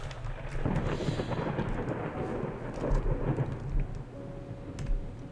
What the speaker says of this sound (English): My god, I love the rain.